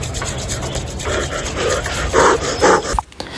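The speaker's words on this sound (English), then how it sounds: "Try rubbing your hands together to observe that." Two hands rub together in quick, repeated strokes, producing a close, dry, rasping friction sound in uneven bursts that stops abruptly near the end.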